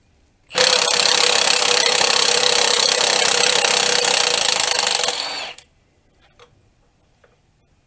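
An impact wrench zips off motor mount bolts on a 2007 Saturn Vue with the Honda-built 3.5 V6, one loud continuous rattling burst of about five seconds close by, then a few faint clicks in near silence.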